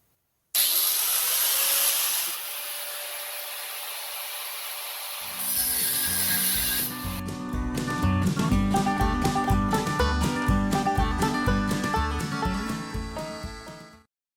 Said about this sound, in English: I'm going to go with the grinder and the cutoff wheel.